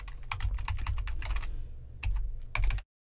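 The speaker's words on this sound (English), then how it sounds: "I'll type in my password" A password is typed on a computer keyboard as a quick run of close, crisp key clicks in uneven bursts, ending with a slightly louder final tap before silence.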